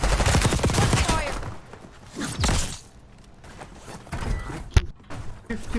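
Gunfire in the Warzone Resurgence shooter game, with bursts of rapid shots, a lull, then a sharp single crack toward the end, all close and loud.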